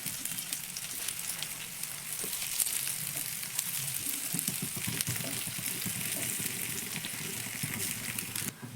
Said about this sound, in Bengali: শুধুমাত্র সামান্য একটু তেলে উল্টে পাল্টে ভেজে নেব।